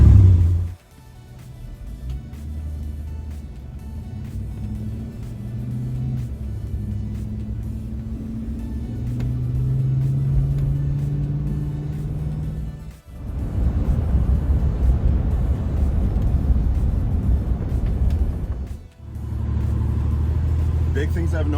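A rebuilt Buick Grand National drives along with a steady engine rumble and road noise inside the cabin, with someone talking over it at times and two brief dips in the drone.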